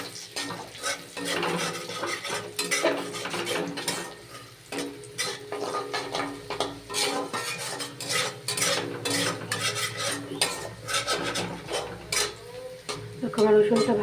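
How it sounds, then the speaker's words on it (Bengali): Garlic frying in oil while being stirred, with steady sizzling and frequent utensil scrapes and clinks against the pan throughout, fairly close and continuous, with no talk. "আমি তেলের মধ্যে প্রথমে দিয়ে দেবো রসুন। রসুনটা হালকা লাল লাল করে ভেজে নেব।"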